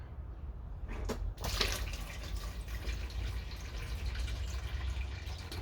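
Water trickles and gurgles steadily as liquid drains, with a brief sharper splash early on, then a continuous soft rushing flow.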